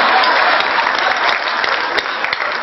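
An audience claps enthusiastically at a Hindi comic poetry gathering, a hasya kavi sammelan, in a dense, steady burst of applause that fills the hall for the whole moment with no voices over it.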